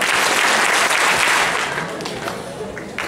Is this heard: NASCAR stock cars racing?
no